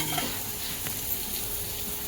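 Pomfret fish fries in a pan coated with semolina, giving a soft, continuous sizzle close by with faint stirring scrapes and no talk.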